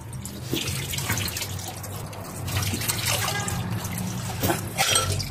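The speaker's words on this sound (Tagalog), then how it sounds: "Drain na natin. Itim yung langis." Dark used engine oil pours steadily from the drain of a 2016 Hyundai Elantra during an oil change, a continuous liquid trickle and splash close by with no talk.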